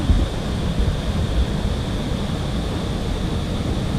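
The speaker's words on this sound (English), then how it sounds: "Crazy, crazy waterfall." Large waterfall in Yosemite National Park roaring steadily, a dense, continuous rush of falling water with some wind buffeting the microphone, loud and unbroken throughout.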